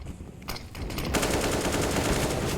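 A Counter-Strike spray in a competitive match on Mirage: a brief pause, then a dense, rapid burst of automatic rifle fire that runs continuously to the end, loud and close.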